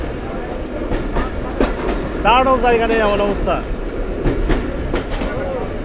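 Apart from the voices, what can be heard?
Rajshahi to Rohanpur commuter train running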